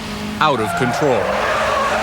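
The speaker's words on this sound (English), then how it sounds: "people are terrorized by the screams of burning tires and the roar of high-performance cars" Tires screech from cars being joyridden on a British street, a loud squeal rising over steady engine roar, while a voice speaks briefly over the noise.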